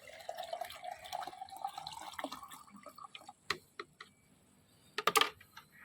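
Homemade liquid plant fertilizer poured into a container: a quiet, close trickle that rises in pitch as it runs, then a few scattered drips and taps, with a brief clatter near the end.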